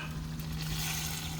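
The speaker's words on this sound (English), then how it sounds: "Frying the eggs, broke the yolks, stirring them around." Eggs with broken yolks frying and being stirred in a pot, a steady close sizzle with a low hum underneath, no voices.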